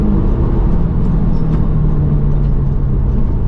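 A manual Audi TT quattro drives along with a loud, steady engine drone and road rumble from inside the car, its revs rising and settling as gears change.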